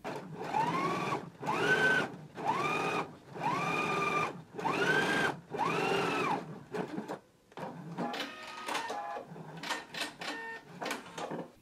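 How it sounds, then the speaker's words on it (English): A sewing machine understitches a pants fly seam allowance in repeated whirring bursts of about a second each with short pauses between, then switches to a lighter run of quick, choppy stitches. "go ahead and do our understitching now"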